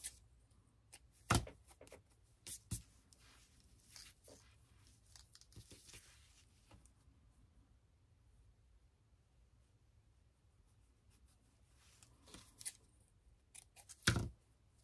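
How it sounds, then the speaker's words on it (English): Scissors snip a frayed paper edge in short, crisp cuts, with a few sharp snips early, a long quiet stretch, and a final cluster of close snips at the end. "I'm going to have to trim off that frayed edge"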